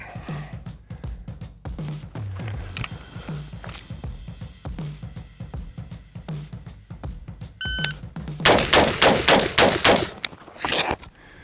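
Pistol gunshots in a transition shooting drill crack out in a quick series of sharp, loud reports spaced fractions of a second apart. A shot-timer beep sounds near the end, followed by a denser burst of shots.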